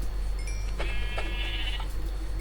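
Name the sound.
sheep bleating in a video game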